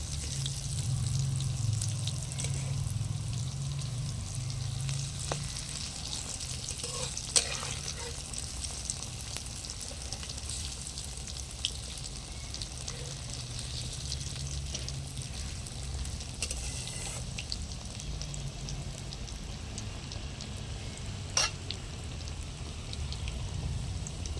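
Cauliflower fritters frying in hot oil make a steady, continuous sizzle and crackle close by, with occasional sharper pops and a low rumble underneath throughout.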